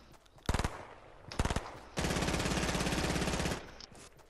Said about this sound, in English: People shooting at you from Salty, I believe.